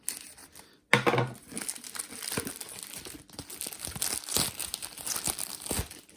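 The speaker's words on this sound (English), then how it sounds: "Okay, another box, all taped up very well. If I can figure out how on earth to get into this box. Yeah, let's just rip past this." A well-taped cardboard box holding a Nixon Regulus watch is ripped open by hand, starting with a sharp, loud tear. Close crinkling and repeated tearing of tape and cardboard follow throughout.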